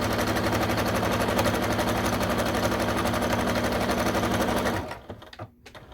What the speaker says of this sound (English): we have some nice back stitching on, some nice top stitching